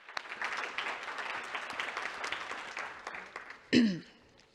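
Moderate audience applause at a conference as guests are invited on stage, a scattered room-wide patter of clapping that fades, followed by a short loud vocal sound near the end.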